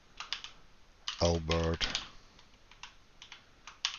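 Quick bursts of keystrokes on a computer keyboard as names are typed, light clicks under a brief spoken word, close and quiet.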